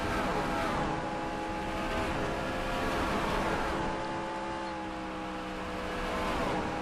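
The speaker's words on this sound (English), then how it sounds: "Driving this fast 5 car." Race car engine from a NASCAR video game, a fast #5 car at the 2011 Samsung Mobile 500, drones steadily at high revs. The pitch is sustained, with slight swells in loudness.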